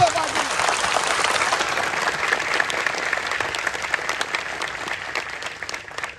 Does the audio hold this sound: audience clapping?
yes